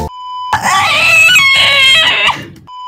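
A Minecraft player screams during a Spleef match, a loud, wavering, high-pitched scream lasting about two seconds, bracketed by short game beeps.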